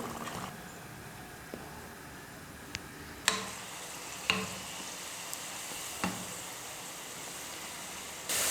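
Sweet somas, a Tamil Diwali pastry, frying in hot oil with a steady sizzling hiss, broken by a few sharp clinks as a ladle lifts them out.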